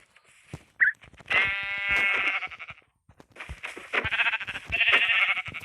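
Sheep in the video game Minecraft bleat in a short quick cry, then in several longer, louder bleats close by, with brief pauses between them.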